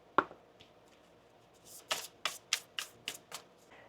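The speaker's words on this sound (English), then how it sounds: "I started shuffling the deck here for you" A tarot card deck being shuffled by hand: one sharp riffle, then a quick run of about six crisp, rhythmic riffling bursts, close and fairly quiet.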